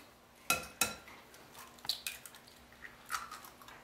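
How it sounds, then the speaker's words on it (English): An egg is cracked against a bowl and dropped onto raw ground turkey for an Italian meatloaf: two sharp close taps, then soft wet squishing sounds in a quiet kitchen. "Now we're gonna crack our egg."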